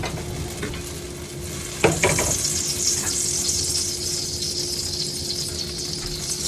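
Garlic sizzles in hot oil in a pan, a steady bright frying hiss that jumps when the garlic goes in, with a brief clatter of stirring near the start.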